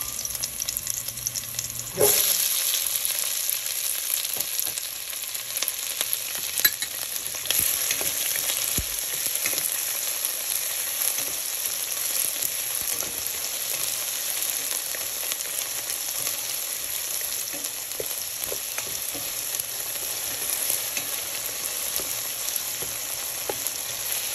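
Onion and minced garlic fry in hot oil, a steady bright sizzle that flares up loudly as the onion goes in and then holds constant and close, with no talking.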